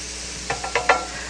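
Marinated venison in Italian dressing and steak sauce sizzling in a pan as it is stirred, four quick scraping pushes rising above a steady soft fry, close up.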